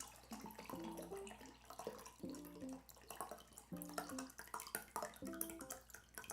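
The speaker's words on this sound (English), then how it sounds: "This thing does not want to pour in one steady stream" Liquid from a Russian MRE pouring unevenly in quiet bursts, with repeated glugging trickles and splashes coming in irregular spurts rather than one steady stream, close and soft.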